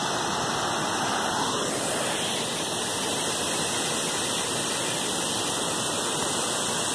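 Cachoeira de Cocais waterfall in Minas Gerais roars as a loud, unbroken broadband rush of falling water, steady and close for the whole stretch with no voices.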